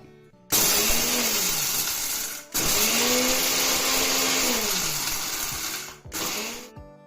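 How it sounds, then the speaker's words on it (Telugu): A mixer grinder coarsely grinds dry ginger pieces and spices in three loud whirring bursts, each revving up and winding down, separated by brief pauses. "కొంచెం సొంటి ముక్క, వీటిని మిక్సీ పట్టుకుందాము."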